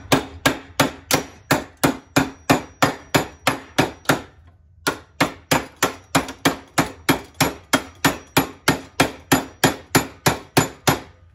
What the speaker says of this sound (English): I'm going to knock the sides down as much as I can with the hammer